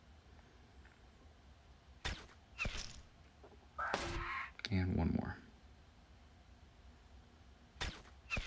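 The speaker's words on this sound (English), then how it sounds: "field agents should be able to finish it off with a few gunshots" Gunfire in the video game Battle Nations comes as a few sharp, separate reports spaced across several seconds over a quiet game backdrop, and someone speaks briefly between them.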